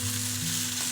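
Flat rice noodles spread in hot oil in a smoking wok for a beef and scrambled egg dish, a brief, steady sizzling hiss over a low hum.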